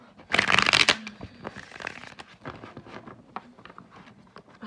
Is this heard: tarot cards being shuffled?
yes